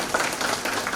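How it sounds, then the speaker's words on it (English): A short, lively burst of audience applause for a panel of three speakers at a literary festival, many hands clapping at once at moderate volume. "Big round of applause for all three of our speakers"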